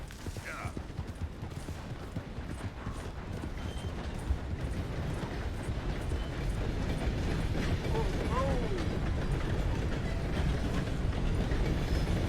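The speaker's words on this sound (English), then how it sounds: "Train." A train rolling past in the Red Dead Redemption 2 video game, a steady rumbling clatter of wheels that swells louder over several seconds, with faint tonal whistles mixed in.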